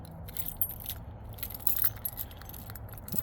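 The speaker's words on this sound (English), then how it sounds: "Let's see if I can find the key." Car keys jangle and clink softly in a quiet space as someone searches for the key to a car, with small metallic rattles throughout and no talking.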